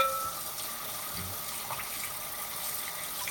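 Tap water runs steadily into a kitchen sink during dishwashing, a constant close hiss and splash with faint clinks, without talking.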